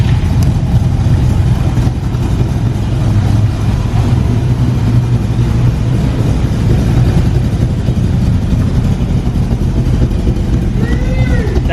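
An AC Cobra's straight-pipe exhaust burbles deep and loud at idle with occasional revs, steady throughout, with a voice talking over it.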